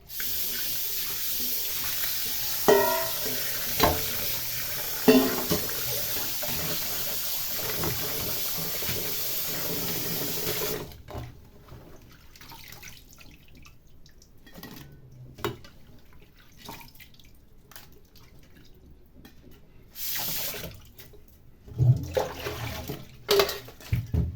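Running tap water pours steadily over cleaned shrimp being washed in a sink, loud and continuous for about ten seconds, then thinning to quieter splashes and trickles with brief louder bursts of water near the end.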